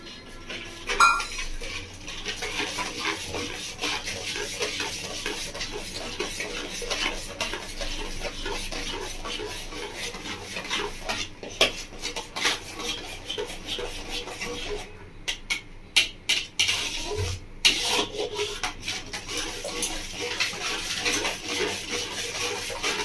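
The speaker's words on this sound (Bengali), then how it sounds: "দুধটাকে এভাবে নাড়তে থাকবো" A spoon stirs milk and sugar with milk powder for mango kheer in a pot, giving a steady run of metallic scraping and clinking against the pot with a few sharper knocks, close and fairly loud, with no voices.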